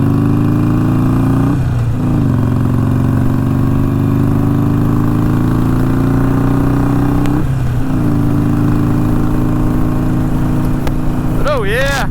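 A 2017 Harley-Davidson Iron 883 Sportster with an air-cooled Evo engine, being ridden: a steady, loud engine drone that dips briefly twice and carries on without a break.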